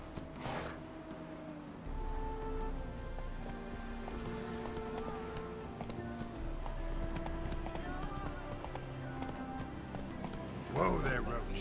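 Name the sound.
horse Roach galloping in video game The Witcher 3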